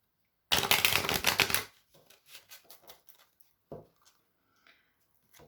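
Tarot cards are handled and laid out, with a brief burst of rapid riffling or shuffling followed by scattered soft taps and slides of cards set down on a surface.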